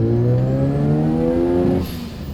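Restored Mazda FC RX-7 rotary engine at low boost, loud close-up revving with a rising harmonic whine that holds and then drops off sharply near the end, no voices over it.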